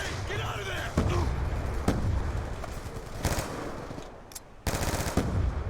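Automatic gunfire from a SWAT-556 rifle in Call of Duty Black Ops II multiplayer, short sharp bursts of rapid shots separated by pauses, loud and close amid a noisy game soundscape.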